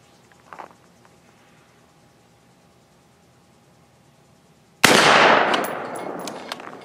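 A close, loud gunshot at a shooting range, with the clang of the bullet striking a 4-inch steel target and a short ringing decay, after a faint earlier shot and a long near-silent pause.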